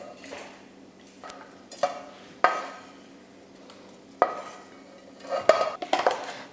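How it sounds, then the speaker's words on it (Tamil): Metal scraping and clinking of a spoon against a pan or mixer jar while cooled masala for idli kurma is transferred into the jar, in scattered bursts with quieter pauses between. "இப்போ மிக்சி ஜாருக்கு மாற்றிக்கலாம்"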